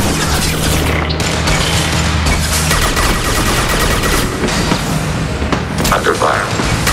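Gunfire in a Mass Effect 2 battle, a dense continuous fusillade of shots and booms over a low rumble, loud and steady throughout, with game voices talking over the fighting.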